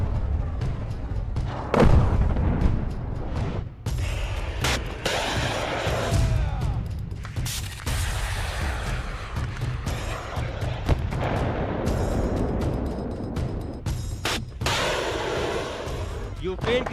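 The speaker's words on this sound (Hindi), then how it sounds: "तोपों और मिसाइलों से रूस लगातार यूक्रेन को निशाना बना रहा है" Russian artillery and missile fire strikes Ukraine in dense, continuous booms and rumbling blasts, loud and sustained, with a voice talking over the barrage.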